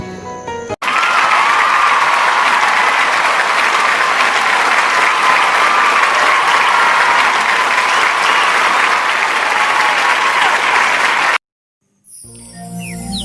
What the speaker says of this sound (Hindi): करताली दियंतु।